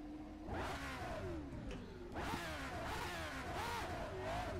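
A 1967-era racing car at Longford in rFactor 2 revs up and down through its gears in three surging waves, the engine loud and close throughout.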